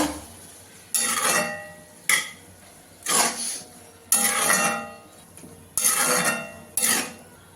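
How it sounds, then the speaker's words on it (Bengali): Jackfruit seeds stirred in a metal cooking pot: loud, separate bursts of scraping and clattering with short pauses between strokes, close by. "আমি কাঁঠালের বিচিগুলো দিয়ে দেব, নাড়া দিয়ে দেব।"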